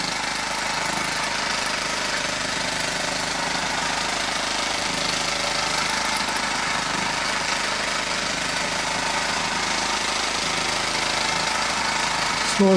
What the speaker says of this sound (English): Small engines like this quite often dance around the table.